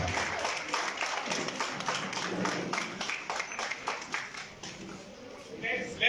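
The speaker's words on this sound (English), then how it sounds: "Let the clapping continue." An audience at a school reading event claps in an irregular, uneven patter of many hands, rising and dipping, with voices mixed in underneath.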